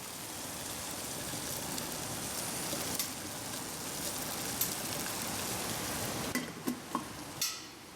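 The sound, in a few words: water boiling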